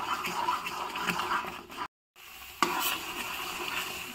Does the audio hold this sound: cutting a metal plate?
no